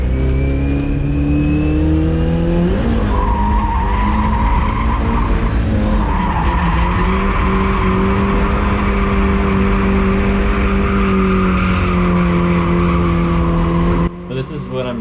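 A Toyota AE86 drift car howls at high revs while its tires squeal in long sustained skids, loud from inside the cabin, with voices talking over the engine.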